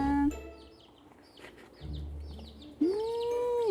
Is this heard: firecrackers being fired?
no